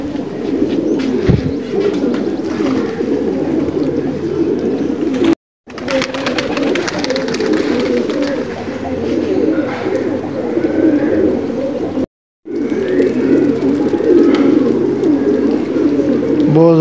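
Continuous low cooing from a group of pigeons resting in hot weather, steady and fairly loud throughout, with a couple of brief silent gaps.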